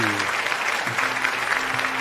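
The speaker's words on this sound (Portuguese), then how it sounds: "Vamos lá, aplausos." A crowd claps continuously in a dense, even round of applause, with a voice faintly speaking underneath.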